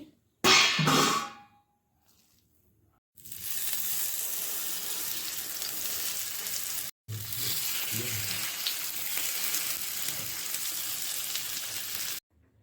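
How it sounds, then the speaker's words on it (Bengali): Patishapta pitha fry in ghee on a griddle with a steady, soft sizzle that starts after a brief clatter and a quiet pause, breaks off for a moment, then resumes, close and continuous. "এই যে ঘিটা তাওয়ায় দিয়ে দিয়েছি, এবারে ভেজে নেব"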